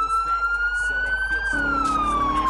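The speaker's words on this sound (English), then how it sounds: "Turn the siren" A loud police car siren in the game Garry's Mod wails nearby, its tone rising then falling in a long sweep, over a rumbling vehicle with a voice faintly mixed in.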